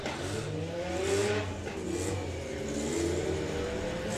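A four-wheel-drive TFSI Mark 1 Jetta and a front-wheel-drive 20-valve turbo Cabriolet drag racing at Santa Pod Raceway, engines revving and accelerating with rising and falling pitch across gear changes, fairly distant and steady.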